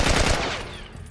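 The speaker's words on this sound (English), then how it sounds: "Who's shooting me?" Enemy gunfire in The Last of Us video game: a dense burst of rapid shots at the start, fading into a lingering rattle and echo over about a second, loud and close with no talk.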